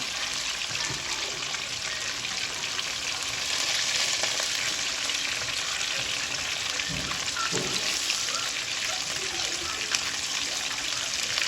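Food frying hard in grease, a steady dense sizzle and crackle running loud and unbroken throughout with occasional bubbling pops and no talk.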